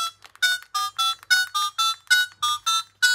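Keypad tones from a red Reliance Jio feature phone, 2024 model: about ten short, crisp beeps pressed in a steady rhythm, loud and close with brief silences between them.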